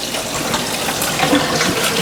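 Cold tap water runs steadily over freshwater mussels in a sink, a close, loud, continuous splashing gush with no pauses.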